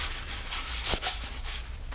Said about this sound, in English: sanding it helps to get rid of those little circles